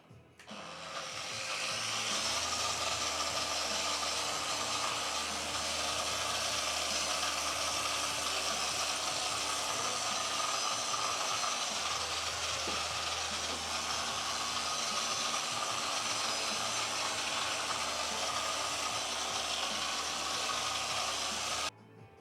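Machine polisher running steadily on a cured epoxy resin coffee table top with two-component polish, a constant whirring motor drone with broadband hiss lasting the whole time, no talk.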